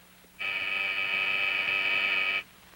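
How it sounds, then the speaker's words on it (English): A single flat electric call buzzer sounds for about two seconds, steady and loud, then cuts off abruptly into quiet. "This buzzer starts that call."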